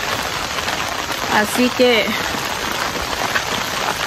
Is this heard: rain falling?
yes